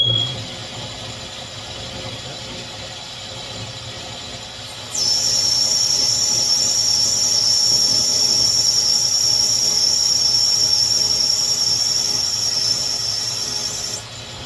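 A metal lathe with a friction clutch runs under power feed, its steady mechanical hum joined midway by a continuous high-pitched whine that holds until near the end.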